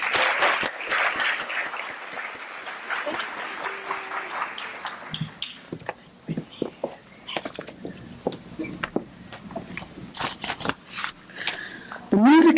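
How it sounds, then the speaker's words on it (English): Audience applause at a university education pinning ceremony, dense clapping at first that thins out into scattered claps and rustling, with faint voices and movement near the end. "Please give them one more round of applause."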